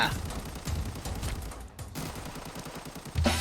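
Gunfire in the video game Arena Breakout, dense bursts of shots rattling steadily throughout, loud and close, with a sharp louder blast near the end.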